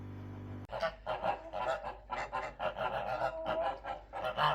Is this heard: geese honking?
yes